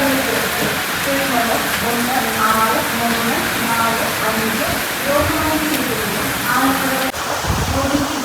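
Steady rain pours down continuously at a railway station, with a busy broadband hiss and some tonal background sounds mixed in, fairly close and loud throughout.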